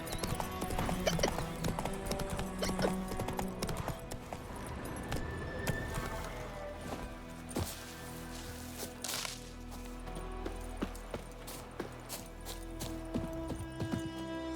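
Roach the horse gallops in The Witcher 3, a fairly faint, rapid rhythm of hoofbeats that runs the whole way through beneath game ambience and music, with a brief whinny.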